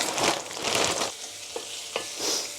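Onion and garlic sizzle in oil for Filipino sautéed bitter gourd, bursts of frying hiss with stirring swishes, then a quieter sizzle punctuated by a few light utensil taps.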